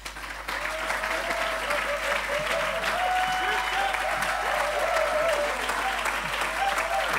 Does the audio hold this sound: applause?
yes